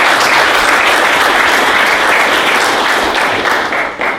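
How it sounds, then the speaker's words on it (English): Loud, dense audience applause at a tech meetup, broad steady clapping from a crowd throughout, tapering slightly at the very end. "let's give Roger a round of applause for doing our video"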